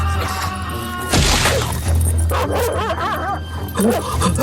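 A black dog attacks in a dramatized horror tale, giving loud barking and yelping bursts over a dense layer of background music and effects, with a sharp crash near the start.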